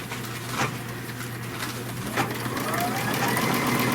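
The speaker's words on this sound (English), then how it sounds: "Okay, so I'm just stitching directly on that line that I marked." A sewing machine stitches along a marked line, running with a steady mechanical hum and low drone, its pitch rising slightly toward the end, with no talk over it.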